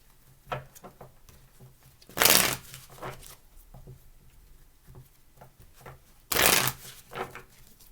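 Tarot cards are shuffled by hand in two quick riffling bursts, with softer taps and slides of the deck between them, close and without speech.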